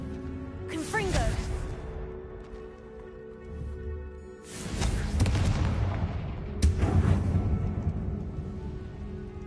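Confringo spell blasts in a Harry Potter video game boom out in several heavy bursts, with a voice speaking between and over the explosions.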